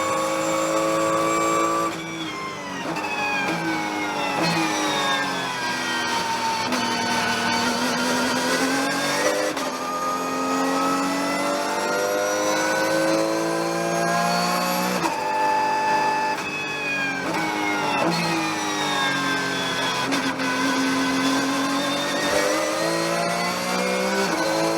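Porsche 911 GT3 Cup race car engines at Sebring, a high sustained whine with pitch sweeping up and down through gear changes, cars running close together with a steady roar throughout.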